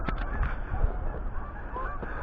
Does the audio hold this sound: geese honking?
yes